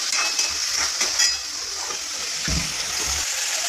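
Two large onions sizzle and fry steadily in hot oil, a continuous bright crackle with a few stirring scrapes, close and loud with no talking.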